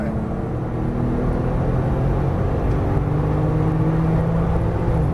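A Porsche on a racetrack under full throttle gives a steady, loud in-car engine drone whose pitch climbs gradually over several seconds, with no talk.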